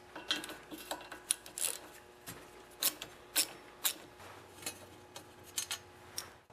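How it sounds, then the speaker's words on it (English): Quiet, close ratchet clicking as three 10mm bolts are loosened from the front guard of an ATV, coming in short irregular bursts of sharp metallic ticks with faint handling noises between them. "I'm going to remove the 3 10mm bolts that hold the guard in place"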